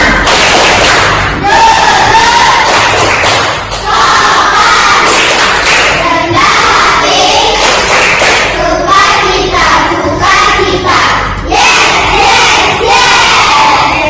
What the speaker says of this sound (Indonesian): Ayo, tepuk kusuma